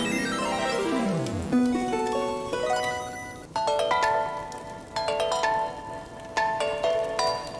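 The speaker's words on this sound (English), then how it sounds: "It's the bell. The Sea Lily's bell." The Sea Lily's bell from Link's Awakening on Switch rings: a bright falling sweep, then clear chime-like tones struck in a loose series that ring out and decay, with no talking.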